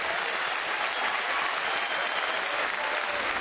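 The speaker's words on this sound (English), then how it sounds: "Now the crowd acknowledging what S. Miller is doing in this game" A baseball stadium crowd applauds steadily throughout, a dense, continuous wash of clapping from many hands that holds at an even, fairly loud level with no speech.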